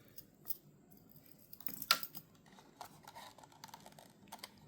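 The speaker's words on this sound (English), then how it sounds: "I did cut the box." A knife slices through the plastic wrapper on the box of a 1998 Porsche 911 GT1 LM scale model, giving scattered sharp clicks and scrapes, with one louder snap near the middle, close and otherwise quiet.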